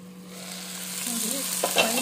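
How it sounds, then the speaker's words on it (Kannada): Tomatoes fry in a pan with a steady sizzle, with faint stirring scrapes and a couple of brief utensil clicks near the end, close by and with no talking. "ಇದು ಸ್ವಲ್ಪ ಫ್ರೈ ಆಗಲಿ."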